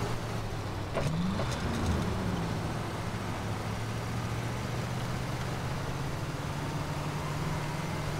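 A truck in the SnowRunner game, out of fuel and bogged in snow, backs up with a steady, unbroken low engine drone and a brief rising rev near the start, without any talk.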